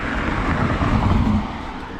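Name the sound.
Japanese kei truck on the road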